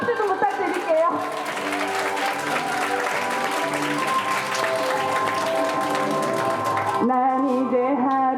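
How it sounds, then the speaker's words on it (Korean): Audience applause at a Korean traditional wedding, a sustained wash of clapping for several seconds between stretches of music and voice. "큰 박수 좀 부탁드릴게요"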